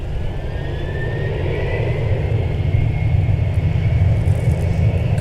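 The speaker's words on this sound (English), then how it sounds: "Yet another departure on 128." Jet airliner departing a runway at Minneapolis–St. Paul airport, a steady loud roar with deep rumble and a rising whine held throughout, no voices.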